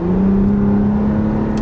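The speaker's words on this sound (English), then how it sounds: "there is a nice burble from this V6 and this TRD exhaust, but mostly only at lower speeds" A 2020 Toyota Camry TRD with its V6 and TRD exhaust drones with a low, steady burble while driving at lower speed, loud and continuous with a constant engine tone.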